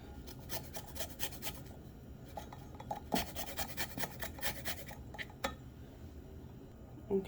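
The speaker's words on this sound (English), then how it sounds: "lemon zest." A lemon is zested on a grater in a home kitchen. Quiet, close rasping strokes come in irregular bursts, with a few sharper scrapes, and nobody talks.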